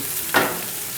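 Ground pork fries on a flat-top griddle with a continuous close sizzle, and a brief scrape rises over it as the meat is broken up.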